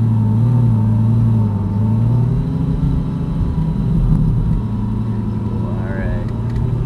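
A Lamborghini accelerates on a race track at an island event, its engine a steady, loud, low droning rumble from inside the car, with a voice speaking over it.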